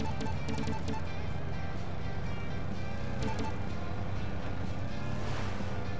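A video-game off-road 4x4 engine labours hard under load, its loud droning roar holding continuously throughout with a rough, gritty texture.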